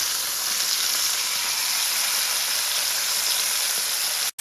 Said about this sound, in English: Flip over and fry for another 3 minutes.